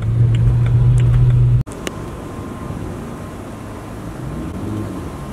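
A car engine runs loud and steady, then a sharp cut as the driver shifts, after which the engine carries on at a lower, rougher drone while driving outside a workplace.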